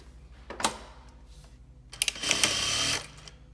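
A Juki DDL900A industrial lockstitch sewing machine stitches in two bursts: a quick short run first, then a longer steady whirring run at close range.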